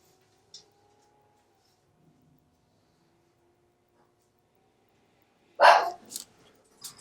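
A dog gives a short burst of loud, close barks after several seconds of near silence, with a faint yip early on and a last brief bark at the end.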